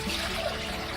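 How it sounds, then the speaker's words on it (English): Three cups of water pour steadily into a cooking pot, a continuous close splashing rush with no talk. "we're going to start with adding 3 cups of water"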